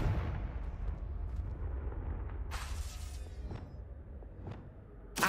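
Confringo blasting spell in Hogwarts Legacy, the wizarding video game, going off as a series of booming explosive bursts over a low rumbling bed, with a sharp crack right at the end.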